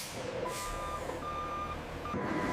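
Trucks carrying giant fruit reverse slowly at a factory unloading bay, a steady repeating reversing beep sounding over a constant low engine rumble, loud and close throughout.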